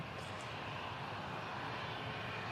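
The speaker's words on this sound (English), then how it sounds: "There's an aircraft rolling down the runway." A Ryanair Boeing 737 rolls down the runway at Manchester Airport, heard as a steady, distant jet roar with a broad hiss, continuous and fairly faint.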